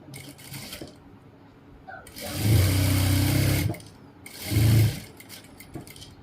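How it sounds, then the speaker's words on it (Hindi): An electric sewing machine runs in two loud bursts while stitching a pocket onto trousers, with quieter handling noise between runs. "अब इसके ऊपर हम ये एक पैर की सिलाई मारेंगे।"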